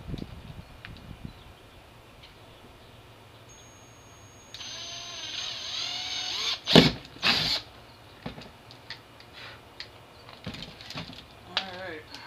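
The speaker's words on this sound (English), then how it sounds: "Now let's see if I can get this hole drilled right." A power drill bores a hole in the frame of a 2009 Suzuki GSX-R 750 for a frame slider, a whining run of several seconds ending in a couple of loud grinding bursts, with quiet clicks and handling noises afterward.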